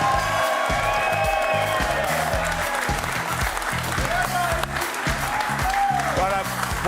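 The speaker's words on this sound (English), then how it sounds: "Keep your applause going, Fletch and Hindy and Nate Miles." Studio audience applause with some cheering on a rugby league TV show, a dense continuous clapping wash that carries on while a presenter talks over it.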